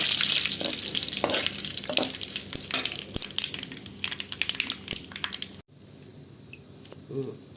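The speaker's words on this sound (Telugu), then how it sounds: "తాలింపు వేయింది, ఎండుమిర్చి వేస్తున్నాం." Dried red chillies fry in hot tempering oil with a steady, close sizzle and scattered crackles and pops for several seconds, then cut abruptly to a quieter room; a voice speaks partway through.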